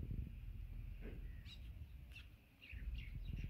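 Pigeons at a home coop give a few brief, faint high chirps over a steady low background rumble, with no one speaking.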